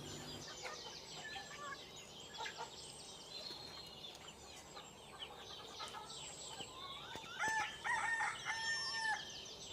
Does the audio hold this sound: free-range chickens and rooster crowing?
yes